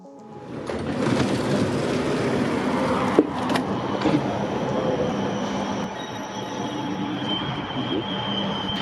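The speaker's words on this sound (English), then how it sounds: "Holy shit, that's a 6-carriage train set" A six-carriage passenger train rolls steadily past nearby in Luxembourg, a loud continuous rumble of wheels on rails with a thin metallic squeal riding on top.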